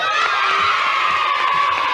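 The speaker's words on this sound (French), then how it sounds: "D'abord, on peut les applaudir tous les deux." A loud studio audience at a 1990 French children's TV show cheers and shouts continuously, with high excited voices and whoops filling the air.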